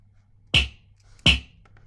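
Two sharp synthesized snare hits, made in Serum with heavy distortion, crack out about three quarters of a second apart, each a bright, punchy transient with a quick tail over near silence.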